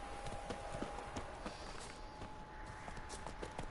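Horse hooves clip-clopping in The Witcher 3, a quick steady trot of hoofbeats close up over a constant background hum, running the whole time.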